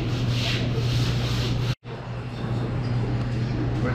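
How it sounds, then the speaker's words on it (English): Floor scrubber worked by hand over the dirty spots of a kitchen floor, giving a steady, close rubbing and scrubbing noise with a low hum underneath that breaks off briefly and then resumes. "just take the floor scrubber and elbow grease and scrub the more difficult or dirty spots"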